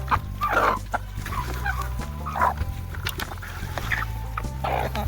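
A flock of chickens clucks and squawks while being fed on a farm, bursts of calls repeating over a constant low background rumble with faint scattered noises, no clear talk.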